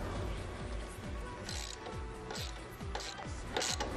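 Ratchet with a socket and 13 mm wrench tightening a nut on a TVS Star Sport motorcycle, giving a steady run of close, rhythmic clicking pawl strokes with no talk.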